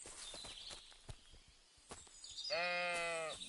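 A sheep in the video game Kingdom Come 2 lets out a clear, fairly close bleat near the end, preceded by soft footsteps and quiet rustling ambience.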